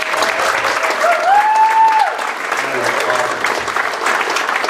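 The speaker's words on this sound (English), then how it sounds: "So huge round of applause for that." Audience at a middle school winter band concert claps steadily after the band's Band Fest superior rating is announced, a full even patter of many hands with a faint tonal whistle or squeak rising briefly near the start.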